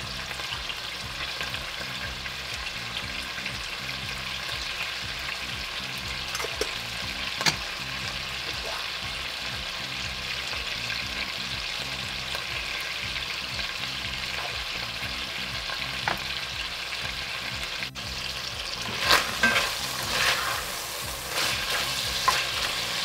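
Chunks of beef sear and sizzle in a pot with bacon for a beef bourguignon, a steady close frying hiss with occasional scraping stirs and clinks toward the end.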